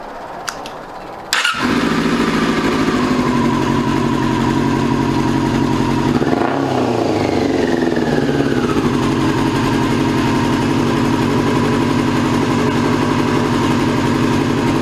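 A 2002 Yamaha YZF R6 sport motorcycle engine, restarted after sitting six years, cranks and fires up loudly, then settles into a steady, close idle with a brief rev partway through.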